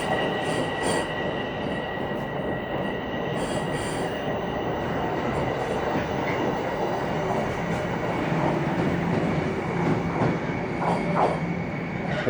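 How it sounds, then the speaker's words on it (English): A southbound subway train runs through Toronto's Eglinton station without stopping, wheels squealing loudly over a continuous rolling rumble and faint clicks, with no speech. "That's about the 7th train I've seen pass by that's heading southbound."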